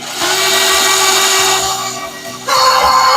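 A stand mixer beats sugar and vanilla sugar in its bowl: a loud, close, continuous motor whir with a rhythmic churning, dipping slightly before surging to a higher speed near the end.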